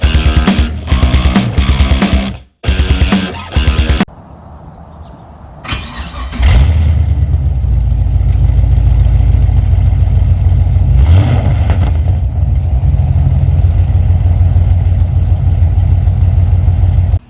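A Nissan 240SX S14 drift build with an LS1 V8 swap and new exhaust. Choppy bursts give way to a loud start, then a deep, rumbling idle with a brief rev partway through, close to the car.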